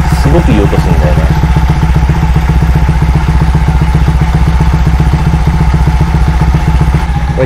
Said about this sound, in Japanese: このほんとキャプコンマフラーをね、走行音以外のアイドリング時の音で聞いてほしいんですよ